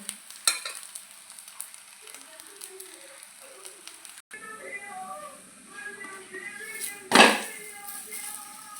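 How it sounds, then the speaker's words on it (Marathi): A pumpkin multigrain thalipeeth roasts in a pan over a low flame, giving a soft, steady sizzle close by with a sharp burst of frying crackle near the end, under some quiet background sound. "बारीक गॅसवर आपल्याला खरपूस असं थालीपीठ भाजून घ्यायचं आहे"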